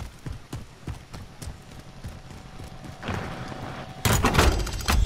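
Gunfire in the video game Call of Duty: Modern Warfare, a string of distant sharp shots in an irregular rhythm, then a louder, denser burst near the end, with no talk over it.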